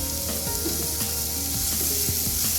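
Salted onion sautés in a pan for a Kerala mulakitta meen (fish) curry: a dense, constant sizzle with light clinks and scrapes of stirring, close and fairly loud.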